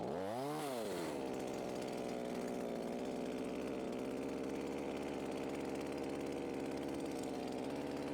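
A chainsaw working during front yard cleanup revs up fast with a rising and falling whine, then runs steadily at high speed, loud and close, with no voices over it.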